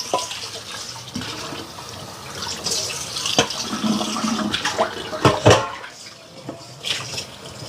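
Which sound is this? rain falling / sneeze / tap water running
tap water running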